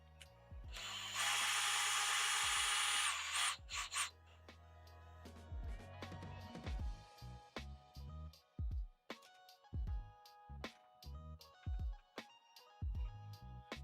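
A power drill whirs in a long sustained burst turning carriage bolts, then a series of short, loud bursts and clicks of metal tool work, close by with no talking.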